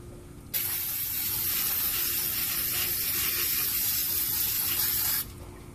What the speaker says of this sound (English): Just shake it up and just spray it.